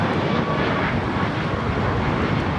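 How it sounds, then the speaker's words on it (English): A United Boeing 737 MAX 8 takes off at LAX, its engines a loud, steady, broad roar that holds without a break. "That was United 2159 taking off to Washington Dulles on the MAX 8s."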